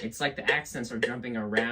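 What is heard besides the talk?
No everyday noises stand out.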